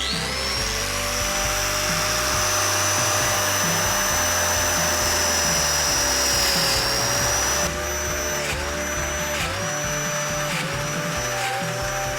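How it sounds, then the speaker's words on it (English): A domino joiner cuts joints into Accoya wood door-surround panels with a loud, steady high-pitched motor whine and the roar of dust extraction. The pitch dips briefly several times near the end as each plunge cut is made. "mark my dominoes on the face panels and get them jointed in the back"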